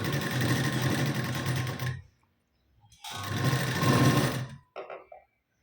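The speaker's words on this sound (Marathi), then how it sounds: "व्यवस्थित शिलाई देऊन घ्यायची" A sewing machine stitching a katori blouse, whirring loudly and close in two long runs separated by a pause, then a short final burst before it stops.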